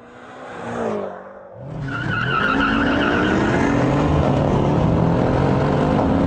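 A BMW M6 Gran Coupe launches against a Mercedes E63 AMG, its engine note dipping briefly before a loud, sustained rise as tires squeal, the straining engine roar carrying steadily close by with no voices.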